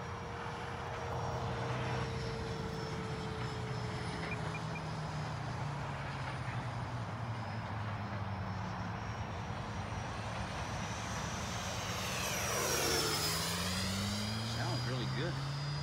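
An FMS F/A-18 RC model jet flies at a club field, its whining electric ducted-fan drone sweeping in pitch as it passes, swelling loudly near the end, with people talking over it.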